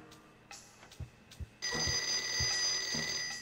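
A telephone rings in a video game, starting after a few soft knocks and thumps and continuing as a steady, sustained electronic ring that fills the rest of the moment, with no speech.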